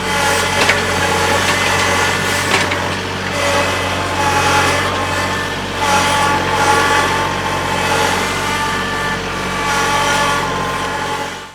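A tractor engine runs steadily close by on a farm slope, a low droning rumble with slight rises and dips in revving, no talking.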